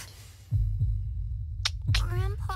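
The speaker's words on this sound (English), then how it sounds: "Heartbeat, you know, son" Heartbeat effect in the Dragon Ball Sparking Zero fighting game: low, muffled thumps arriving in paired beats, steady and close, with a burst of other game sounds and a voice-like tone late in the stretch.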